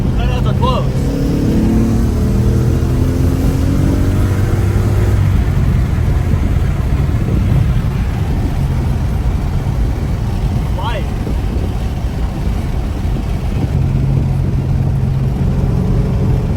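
A Ford Mustang GT with its exhaust cutouts closed cruises along, its engine holding a steady loud rumble throughout, with a brief rise in revs early on and wind noise in the background.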